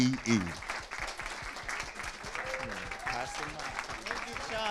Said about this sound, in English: Please welcome, good big round of applause for Eric C. Anderson, ACE.